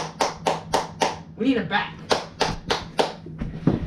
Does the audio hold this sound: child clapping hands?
yes